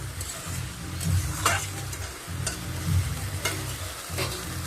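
Garlic and onion frying in a pan as the base for steamed biryani, a close steady sizzle broken by repeated scraping stirs of a utensil against the pot, no talking.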